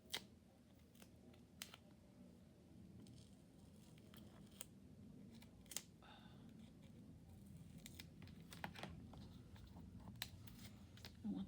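Scissors snip through paper being trimmed into narrow strips for foam tape, sharp, close cuts arriving in irregular clusters over a quiet room.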